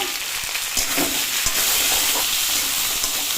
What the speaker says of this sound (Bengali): পরিমাণ মতন লবণ আর হলুদ দিয়ে নাড়াচাড়া করবো।